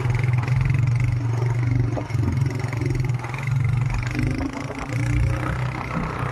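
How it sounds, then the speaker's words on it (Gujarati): A TVS Raider motorcycle engine drones loudly and steadily while riding off-road, with rattling clatter and slight surges in revs throughout. "આપણો આ સ્પ્લેન્ડર નહીં પણ આપણો આ રાઇડરમાં અમે ઓફરોડિંગ કરવી"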